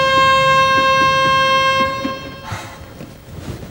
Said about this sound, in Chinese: 我喜欢火车压过铁轨那哐当哐当声